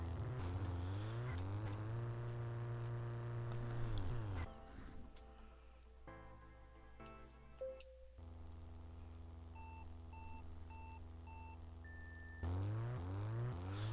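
Car engines racing in the video game Ultimate Racing 2D, rising and falling engine whine with gear-shift sweeps, broken by a stretch of electronic beeps and tones before the engine roar returns.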